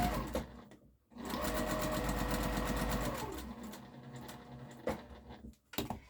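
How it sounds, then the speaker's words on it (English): A home sewing machine stitches a harvesting apron in one steady, close, whirring run of about two seconds, slowing and trailing off, with short handling clicks and fabric rustle before and after. "Yesterday I have had a problem with my sewing machine"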